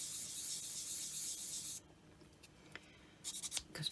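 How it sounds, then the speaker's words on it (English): Sanding a copper necklace piece by hand, a steady close rasping rub for about two seconds, then quieter scattered scrapes and a few short bursts of friction toward the end. "so I thought I would just do a bit of sanding,"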